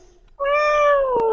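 Tiny black puppies give a single high, drawn-out whine that sounds just like a kitten's mew, close and clear after a brief quiet moment.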